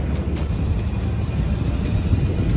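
An airliner rumbles at an airport gate as a steady low engine drone with a faint high whine above it, continuous and fairly loud, with no talking.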